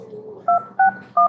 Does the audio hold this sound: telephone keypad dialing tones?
yes